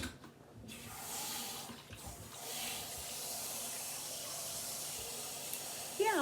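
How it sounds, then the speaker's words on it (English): Hot water runs from a kitchen tap in a steady, hissing stream, starting after a short quiet moment and continuing fairly close, with a small clatter near the end. "I'm going to run this under hot water."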